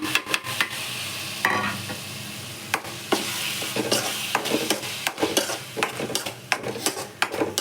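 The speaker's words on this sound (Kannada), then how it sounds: "ಸೊ ನಾನು ಟೊಮೆಟೊ ಕೂಡ ಹಾಕ್ಕೊತಾ ಇದ್ದೀನಿ, ಟೊಮೆಟೊ ಗ್ರೇವಿನ." Tomatoes frying in oil in a pan for a tomato gravy, stirred with a metal utensil: steady close sizzle with repeated scraping and clinking strokes against the pan, no voices.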